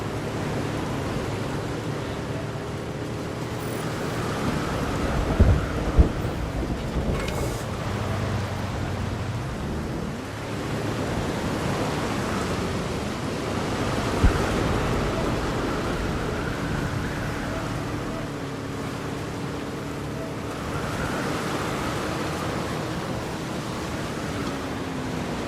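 A thunderstorm with rain in Jurassic World Evolution 2 makes a steady, dense hiss of rainfall throughout. A low engine-like drone sits underneath, and a few dull thumps land near the start and middle.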